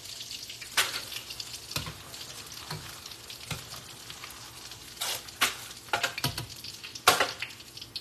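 Shrimp egg foo young patties frying in a pan and being turned over, with steady crackling sizzle broken by several sharp bursts of spatula scraping and spattering, close, no talking.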